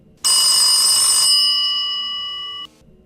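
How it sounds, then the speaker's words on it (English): A telephone bell rings once in a single sustained burst of bright, tonal ringing that fades slightly before cutting off, loud and close with no voices. "I was rolling again when the phone began to ring."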